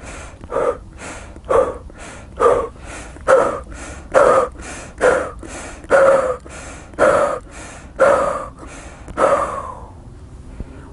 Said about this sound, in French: Respire, respire.